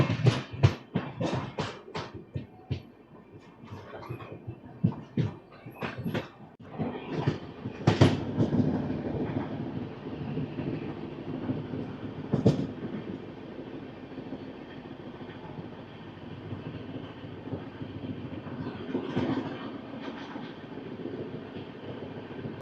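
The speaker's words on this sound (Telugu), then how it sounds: "వరంగల్ స్టేషన్లో ఒక 10 మినిట్స్ ఆగిన తర్వాత మన ట్రైన్ స్టార్ట్ అయిపోయింది" The Visakhapatnam–Nanded Super Fast Express rolls along after leaving Warangal station, a steady rumbling clatter with rhythmic wheel clicks and rattles heard from inside the coach, no talking.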